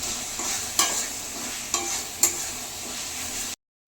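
Ground cumin, coriander, chili and black pepper frying in a pan for Punjabi-style kala chana curry: a steady sizzle with a few scraping stirs of a spoon, cutting off abruptly at the end.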